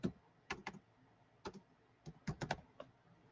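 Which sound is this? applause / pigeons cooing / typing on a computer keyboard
typing on a computer keyboard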